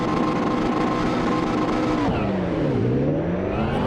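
A McLaren MP4-12C GT2 race car in Assetto Corsa drones loudly and steadily at the race start, the engine note holding high and then dipping and climbing again as the gears change.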